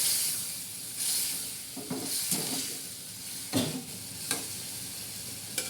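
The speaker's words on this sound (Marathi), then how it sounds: "आता याच्या डाळ टाकणार आहोत ही आता या डाळीचा आपण पूर्ण चांगला असं मस्त मस्तपैकी असं हलवून घेणार आहोत" Chana dal and onion fry in a pan, stirred with a spoon for a ridge gourd curry: a soft continuous sizzle broken by several scraping stir strokes and a few sharper clanks against the pan.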